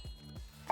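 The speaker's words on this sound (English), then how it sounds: "we're going to start by chopping our tomatoes." Heirloom tomatoes chopped with a knife on a board, two soft thuds a few tenths of a second apart followed by a sharper tap, close and quiet with no talk.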